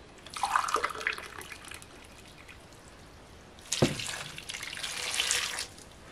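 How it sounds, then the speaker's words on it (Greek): Hot water poured from a cup over salted Brussels sprouts in a pot: two bursts of splashing pour, the second louder with an initial plunk, separated by a quiet gap. "μία κούπα καυτή νερό"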